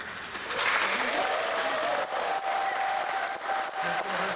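Wedding guests in Dallas, Texas clap steadily after a couple exchange vows, a dense crowd applause that holds for several seconds with a brief swell and slight dips, while a faint tonal sound carries underneath.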